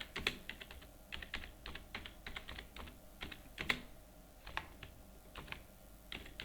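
Typing on a computer keyboard while entering data into accounting software: irregular, quick bursts of crisp key clicks with brief gaps, close and fairly quiet.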